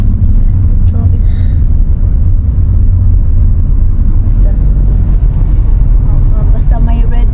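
Busy street traffic, with a steady loud rumble of car engines and road noise throughout, some wind buffeting the microphone, and people talking over it.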